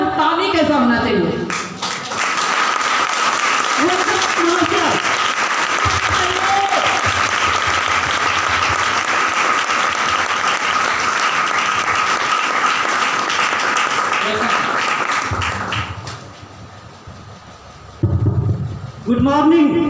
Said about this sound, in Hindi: ऐसे इंसान को वेलकम करने करने के लिए अगर जा रहे हैं तो ताली कैसा होना चाहिए?